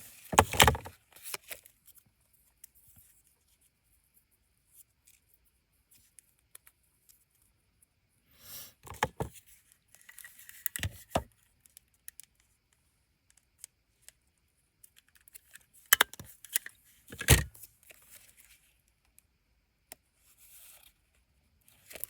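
Scissors trim paper cut from an upcycled tea box into small flipbook pages, a few separate crisp snips spaced apart by long quiet pauses, close and clear.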